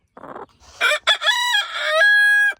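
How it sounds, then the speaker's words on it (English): Backyard chickens on a Kansas spring morning cluck briefly, then a rooster crows loudly up close, its long call rising and holding before cutting off. "Let's go see these silly chickens."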